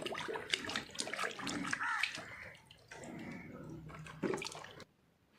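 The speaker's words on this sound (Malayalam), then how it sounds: "നല്ല വെള്ളത്തിൽ കഴുകിയെടുക്കണം" Small, freshly dug tubers are washed by hand in water, making irregular splashes, sloshes and drips close by. The sound stops abruptly near the end.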